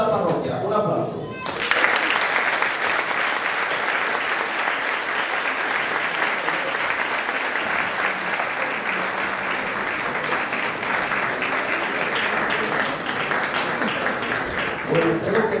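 Audience applause at an Asturian Christmas folk music festival, starting abruptly after a brief lull and continuing as a thick, sustained wash of clapping at steady volume to the end.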